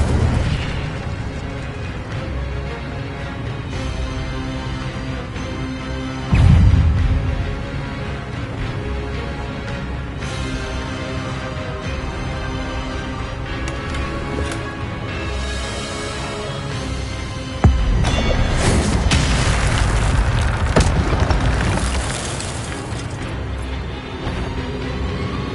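Incendio fire spells blasting in Hogwarts Legacy on PS5, two loud bursts standing out over a dense, continuous bed of game effects and music.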